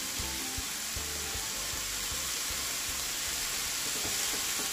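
Butter sizzles and fries steadily in a frying pan before cabbage is added, a continuous close hiss with faint scraping and stirring clicks, no talking.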